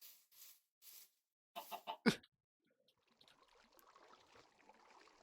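Chicken clucking on a small video game farm, a few short bursts then a sharper squawk, followed by faint low chatter of game sounds.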